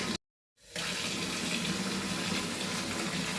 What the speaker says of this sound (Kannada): ಎಷ್ಟು ಪ್ರೆಷರಾಗಿ ಬರ್ತಾವೆ ನೀರು